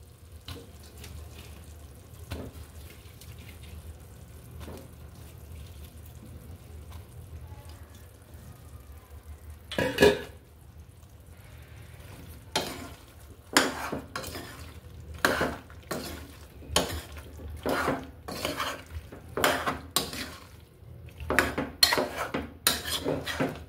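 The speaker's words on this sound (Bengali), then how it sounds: "এবার আমি বাঁশকড়গুলো দিয়ে দিচ্ছি।" Bamboo shoots stirred into cooked beef in a pan: a run of sharp metallic scrapes and clinks of a utensil against the pan, irregular and close, after a quiet stretch of low hum.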